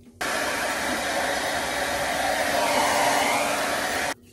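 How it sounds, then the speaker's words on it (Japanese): A hair dryer blows in a steady, even whoosh at close range, starting abruptly and stopping just as suddenly after about four seconds, with no talking. "僕はドライヤーして"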